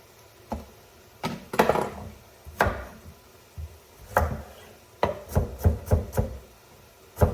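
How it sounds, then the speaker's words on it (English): Knife chopping peeled carrots on a wooden board for a kale and sausage soup, giving irregular sharp close knocks: scattered single cuts at first, then a quicker run of five or six chops near the end. "Again, with the carrots, cut them about the size that you want, the size you like to eat."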